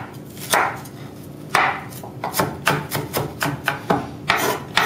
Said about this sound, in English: I just make slices, and I just do very, very thin slices